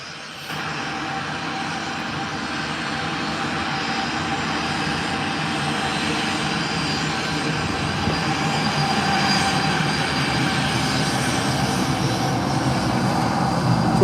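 A Boeing 737-800 jet departing Leeds Bradford Airport for Malaga during stormy weather, its engines a loud, steady broadband roar that holds strong and continuous throughout with no talk over it.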